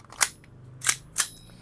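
Three sharp, loud shots from a Tokyo Marui MK2C airsoft pistol with a Hi-Kappa magazine, each crack carrying a metallic clank, the first alone and the last two in quick succession.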